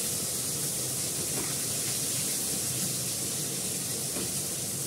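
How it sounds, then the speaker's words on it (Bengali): Cumin seeds tempering in hot oil, a steady, close sizzling hiss running evenly throughout with no talking. "এই জিরে ফোড়ন দিলাম"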